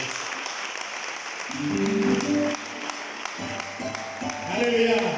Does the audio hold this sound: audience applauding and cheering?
yes